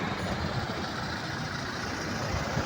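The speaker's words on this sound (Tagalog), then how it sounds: "Ang kapal po ng mga sasakyan dito." Dense, continuous rumble of many vehicles at a busy repair shop, engines idling and moving close by in a steady, loud wash with no clear breaks.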